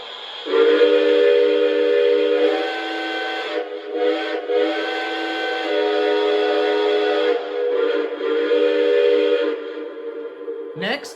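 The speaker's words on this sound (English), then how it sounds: "here is the quillable whistle" A Lionel Legacy Southern Pacific AC-12 Cab Forward model train's quillable steam whistle blows in long, sustained chime-like tones, swelling and varying as it is worked, with a brief sharp sound at the end.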